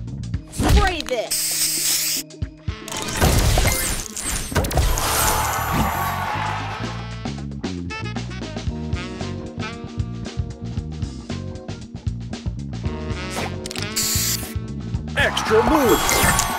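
In the mobile game Match Masters, a spray booster effect hisses in bright bursts of spray noise, repeated several times amid busy game music, chimes and a voice calling out game announcements.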